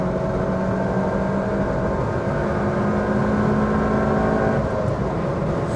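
Ford Puma 1.7 hatchback engine revving hard while driving, a steady loud in-cabin drone with rising harmonic whine, continuous throughout with no talk.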